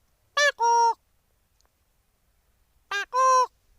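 A man imitates a peahen calling her chicks with his voice, giving two short paired honking calls separated by a pause of silence.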